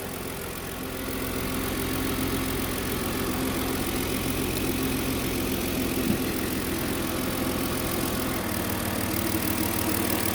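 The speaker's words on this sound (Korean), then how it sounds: "패스트 아이들 기구가 작동해서 멈춰서 이제 공회전 750rpm으로 내려갔어요" A Kia All New K7 LPG car engine idles at 750 rpm, a steady even hum heard close without variation or speech.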